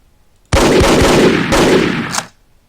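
Video game gunfire in the ASL Mod tabletop wargame: two loud back-to-back bursts of rapid shots, each roughly a second long, then a quick fade to quiet.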